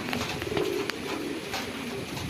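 Racing pigeons coo at the loft in low, repeated throaty calls against steady outdoor background noise, several birds overlapping at moderate distance with no talking.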